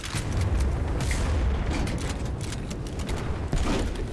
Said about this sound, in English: I'm being shelled by a battleship